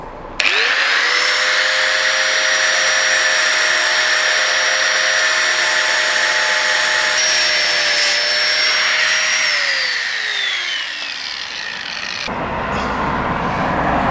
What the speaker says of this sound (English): I ended up having to grind them screws out anyway. They're all rusted in